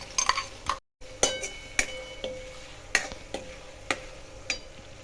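A spoon scrapes and taps through crushed tomato paste in a pan, giving a string of crisp, evenly spaced clicks over a soft sizzle, with one brief dropout early on.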